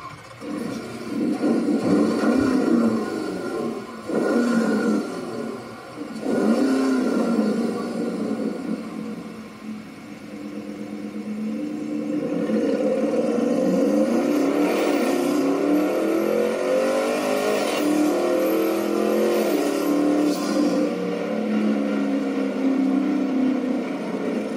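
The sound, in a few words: Porsche Cayenne Turbo GT engine revving and accelerating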